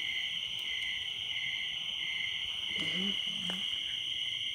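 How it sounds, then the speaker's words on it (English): Crickets chirp at night in a forest, a steady high-pitched shrill drone that holds through the whole stretch with no break, joined near the end by a couple of faint low calls. "I only hear crickets right now."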